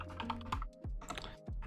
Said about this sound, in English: We're going to start typing some stuff up.